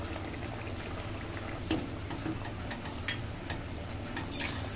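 A pot of mango and pointed gourd simmers and sizzles with fried spices as a spoon stirs and clinks against it in scattered strokes, quiet and close with no talking.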